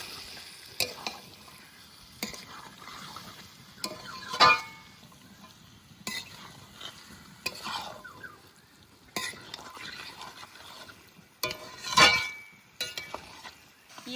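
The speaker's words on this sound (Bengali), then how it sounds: "এবার দিয়ে দেবো কুচানো টমেটো। ভালো করে কষিয়ে নেবো।" Chopped tomato is sautéed with chicken liver and tripe in a pan, a soft continuous sizzle broken by several sharp spatula scrapes and stirring knocks at irregular intervals, close and without talk.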